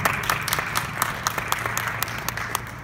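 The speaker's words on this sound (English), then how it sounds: "let's give her a round of applause" Audience at a presidential candidate's campaign speech in Pittsburgh breaking into applause, sustained dense clapping with some sharper individual claps standing out, no talking over it.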